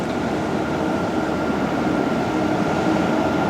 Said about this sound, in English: The guys with the truck going past.